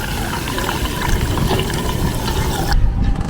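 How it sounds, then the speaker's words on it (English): Water pours steadily into a holding tank during a leak test, a continuous loud rushing and splashing that ends in a brief louder gush. "So I'm gonna put the water to the tank."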